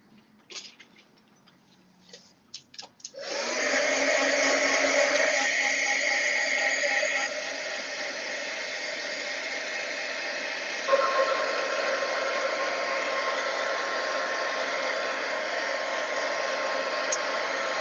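A heat tool or hair dryer used to dry ink on a card-sized piece of paper switches on after a few faint taps, then blows in a steady, close rushing hiss whose pitch shifts slightly partway through.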